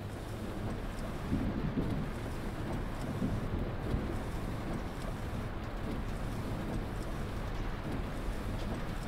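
Steady rain and rumbling wind noise in a Berlin city bus driving game with an 18 m articulated Scania Citywide, a constant dense hiss with no breaks.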